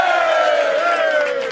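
Carnival-show crowd cheering and whooping at a Limburg Vastelaovend television evening, a loud, continuous wall of voices with a gliding shout on top, without distinct clapping.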